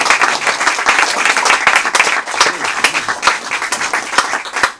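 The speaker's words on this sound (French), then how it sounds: "Je pense qu'on peut les applaudir" Audience applause after a talk in a bookshop: dense, steady clapping from a roomful of people, loud and sustained for the whole span before thinning out at the end.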